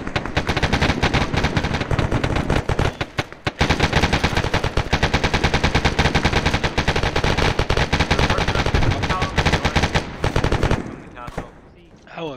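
Heavy automatic gunfire rattles almost without pause in the video game Arma 3, loud and close, with rapid bursts lasting most of the clip before fading into sparse shots at the end.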